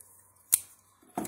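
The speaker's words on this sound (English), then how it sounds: "We can cut these wires." Electrical wires being cut with a knife, two quiet, close, sharp snips about half a second apart, with no talking.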